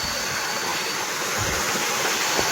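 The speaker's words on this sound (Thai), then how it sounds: "เป็นเขตน้ำตกในจุดนี้นะน้ำตกอยู่จุดนี้" Waterfall deep in a forest at night, a loud, dense, unbroken roar of rushing water close by, with no voices.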